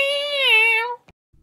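A hungry cat on a set lets out one drawn-out, wavering meow lasting about a second, close and clear, followed by a brief soft thump and near silence.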